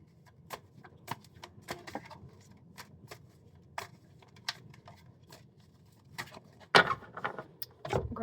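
A tarot card deck shuffled by hand at close range, quick sharp card snaps and flicks in an irregular rhythm over a quiet room, growing busier toward the end.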